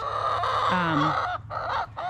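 Several chickens cluck and murmur close by in a composting pen with kitchen scraps, their calls overlapping continuously with a brief higher squawk in the middle.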